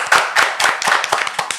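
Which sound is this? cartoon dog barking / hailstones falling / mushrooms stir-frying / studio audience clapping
studio audience clapping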